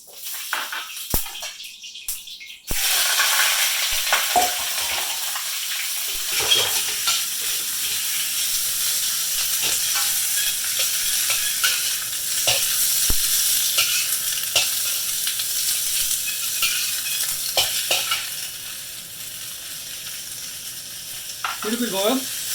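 Vegetables stir-fry in oil in a very hot pan, with a loud, continuous sizzle and crackle that starts suddenly and holds steady close by, broken by occasional scraping and clinks.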